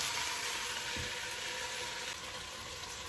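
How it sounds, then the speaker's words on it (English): Ingredients for a homemade stew sautéing in a pan, a soft continuous sizzle with a faint stir, steady and fairly quiet throughout. "We're just going to let that saute for a minute."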